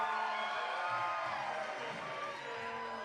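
A packed crowd at a university darts match cheers and whoops, a dense, distant-sounding roar of voices that holds steady and eases slightly toward the end.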